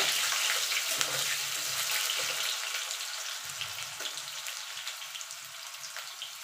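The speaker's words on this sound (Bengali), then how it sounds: "আলুটা একটুখানি ভাজা ভাজা করে নেব।" Potatoes frying in a pan for a mixed vegetable curry, a close crackling sizzle that slowly settles and thins over the seconds, with faint stirring; nobody speaks.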